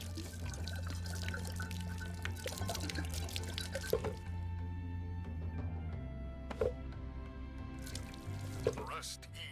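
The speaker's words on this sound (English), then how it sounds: "pay tribute by pouring some liquor for my homies" Liquor is poured as a tribute in a dungeon video game, a trickling splash and drips under a steady musical background with a voice talking over it.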